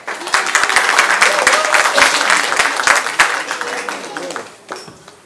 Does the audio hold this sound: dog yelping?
no